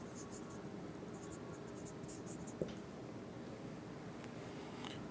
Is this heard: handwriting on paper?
yes